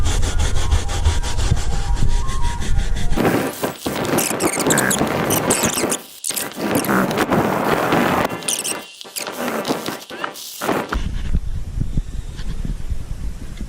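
A scrub brush works foam cleaner into a dirty car surface, producing loud, rough back-and-forth scratching strokes close up, with brief pauses between bursts and no talking.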